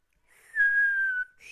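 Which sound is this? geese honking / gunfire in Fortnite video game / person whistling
person whistling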